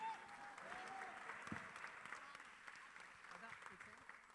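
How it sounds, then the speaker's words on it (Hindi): Dense, steady clapping from a large crowd at a film cast's 25th-anniversary event, sustained throughout with a few sharper claps poking through the wash. "एक बार इन सबके लिए जोरदार तालियां हो जाए,"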